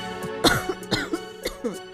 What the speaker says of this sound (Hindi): घर के अंदर से खांसने की आवाज आती है